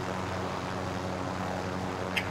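A helicopter in Call of Duty: Modern Warfare gives a steady, droning engine and rotor rumble throughout, with a faint high blip near the end and no talk.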